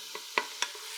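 A wooden spoon breaks up meat frying in a pan with Worcestershire sauce for American chop suey: three or four short, separate scraping strokes over a faint steady sizzle, close and fairly quiet.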